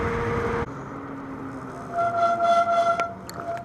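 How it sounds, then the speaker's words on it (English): A Freego electric scooter's brakes squeal in thin, high whining tones while riding on a street, with a loud burst of wind and road noise fading into the intermittent squeak. "Man, those brakes are squeaky."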